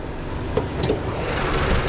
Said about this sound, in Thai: ฟังเสียงเครื่องยนต์กันก่อน